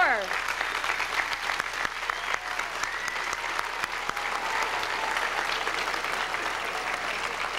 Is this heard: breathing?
no